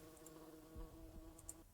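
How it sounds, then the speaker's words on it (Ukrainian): A fly buzzes in the game Dungeon Keeper Gold, a faint, steady drone lasting under two seconds, with a couple of soft ticks over it. "Так, наша муха вже літає, я чую"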